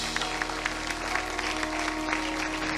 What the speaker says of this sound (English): Let's clap our hands one more time in Jesus' name.